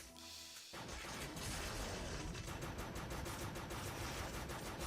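Rapid, dense gunfire rattles almost nonstop in the top-down shooter video game Crimsonland, loud and continuous after a brief quiet start, with no talking.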